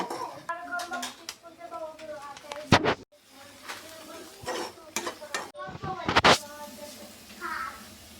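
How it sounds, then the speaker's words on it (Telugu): Ginger-garlic masala fries in a pan for paneer curry with a light sizzle and spoon stirring and clinking against the pan, under a person's talk and a voice nearby. "అల్లం వెల్లుల్లి అనేది కొంచెం పచ్చివాసన పోయేంత వరకు ఫ్రై చేసుకోవాలి"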